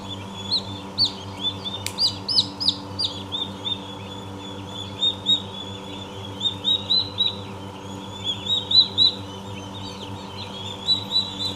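Many small turkey chicks peep in a steady stream of high, repeated chirps, overlapping one another over a low background hum.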